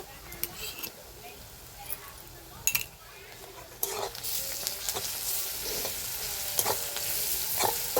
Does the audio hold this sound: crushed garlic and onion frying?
yes